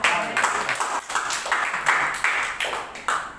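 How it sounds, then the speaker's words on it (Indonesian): A church congregation at a Sunday service applauds together, a loud, sustained wash of clapping with uneven rhythmic pulses lasting a few seconds. "Tepuk tangan dulu dong."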